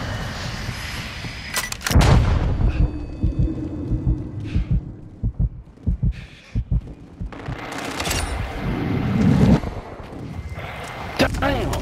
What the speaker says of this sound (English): let's work together and shoot down the VTOL